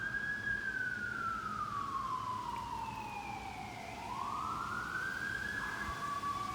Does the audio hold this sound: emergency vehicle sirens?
yes